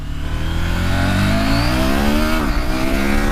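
A 2019 KTM 790 Adventure motorcycle under hard throttle, its engine note climbing steeply and loud and close, then dipping briefly as it shifts before pulling again.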